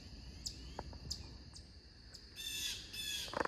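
Faint wild birds give short chirps and calls from overhead in woodland, scattered and fairly distant, with a brief burst of busier high twittering near the end and no talk.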